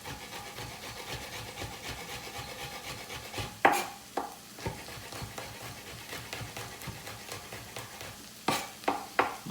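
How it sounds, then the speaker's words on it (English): Onions soften in a frying pan with a low, steady sizzle, overlaid by repeated close scrapes and stirring knocks of a utensil against the pan, with no speech. "Just trying to soften the onions up here. We're not looking to brown them, okay?"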